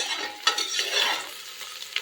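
Vegetables frying in ghee for a pulao, a steady crackling sizzle with scraping stirs and a couple of sharper clinks, close and fairly loud throughout.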